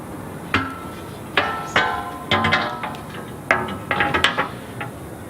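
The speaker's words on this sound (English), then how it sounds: "Offer the sump guard into position, orientating it so that the centred drainage hole aligns with the one in the crossmember at the front." A metal sump guard is offered up under a Land Rover Discovery, giving scattered clanks and resonant metallic knocks as the plate bumps against the crossmember, about half a dozen irregular hits, close by, with no talk.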